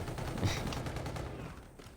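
A shotgun sniper rifle fires in the video game Call of Duty: Infinite Warfare, with loud, close bursts of gunfire that fade into a rumbling tail.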